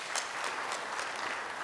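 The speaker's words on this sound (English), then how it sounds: "please give them a clap." A conference audience at a Kenyan industrialization event applauds for its sponsors, a steady wash of clapping that stays dense and even from start to finish with no voices over it.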